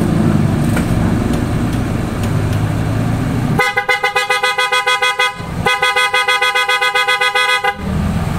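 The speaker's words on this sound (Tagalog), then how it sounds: "pakinggan natin yung horn" A Toyota car horn blares in two long, loud bursts with a short gap between them, following a low idling engine rumble.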